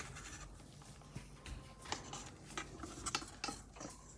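A spatula folding egg whites into pancake batter in a bowl, giving soft, close scraping and tapping strokes in an irregular rhythm, quiet and without talk.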